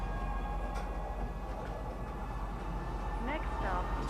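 A tram rolls along in the Star Citizen game near Lorville, a steady low rumble of rail travel with faint squeals, heard beneath a person talking.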